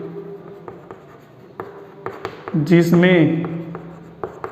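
Chalk or marker strokes from a teacher writing on a classroom board during a maths lesson on matrices, a series of short taps and scratches under steady spoken explanation.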